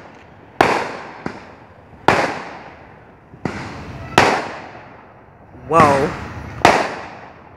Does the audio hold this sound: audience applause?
no